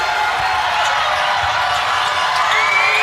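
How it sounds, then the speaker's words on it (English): A women's college basketball crowd at TCU versus Colorado roars steadily, a dense, loud wash of cheering and whooping that builds through the moment, with faint court sounds beneath. "Good crowd on hand on National Girls and Women in Sports Day. And they're getting loud."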